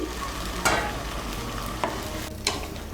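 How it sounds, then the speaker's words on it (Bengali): Potato curry for aloo dum stirred in a hot pan after a cup of hot water goes in: a soft, steady simmering hiss with three distinct scraping strokes of a spoon, close by and without speech. "গরম জলটাকে মিশিয়ে নেব।"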